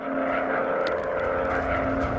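A WW1 fighter plane engine in the VR video game Warplanes drones steadily with a buzzing propeller tone, constant and fairly loud, with no talk.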